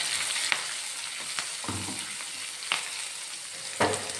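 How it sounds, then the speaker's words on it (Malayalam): Crushed shallots and green chilies fry in hot oil in a pan for a long-bean stir-fry, a steady close sizzle broken by a few sharp stirring scrapes and spatula knocks. "ഇനി നമുക്കതിലേക്ക് ഇടിച്ച് വെച്ചിരിക്കുന്ന ചുവന്നുള്ളിയും പച്ചമുളകും കൂടി ചേർത്ത് കൊടുക്കാം"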